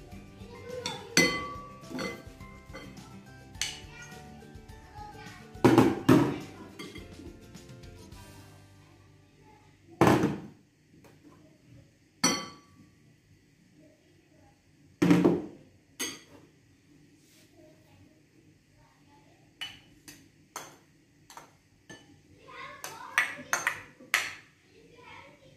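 Sliced mango, banana, orange and apple pieces are dropped one at a time into a big bowl, giving scattered sharp clinks and knocks at irregular intervals, with a voice talking quietly between them.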